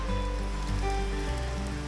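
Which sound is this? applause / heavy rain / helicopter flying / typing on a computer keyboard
heavy rain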